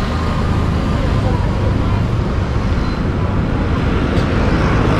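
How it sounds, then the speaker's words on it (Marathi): Continuous traffic noise from cars and buses fills a residential road in Khadakpada, Kalyan, a dense steady roar of passing vehicles with a voice faintly mixed in. "तर थोडा बॅकग्राऊंडमध्ये गाड्यांचा आवाज येईलच।"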